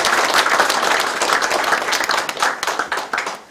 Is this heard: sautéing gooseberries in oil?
no